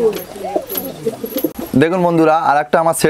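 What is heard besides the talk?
pigeons cooing in a loft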